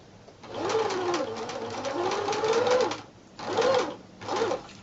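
A sewing machine stitches a fabric ornament, its motor whirring in a sustained burst, then stopping and starting in two shorter runs for back stitching, close and clear with no talk.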